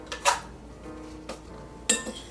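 A tablespoon scraping and clinking against cups and bowls while crushed cookies are scooped in, a few sharp clinks between softer rustles; no talking.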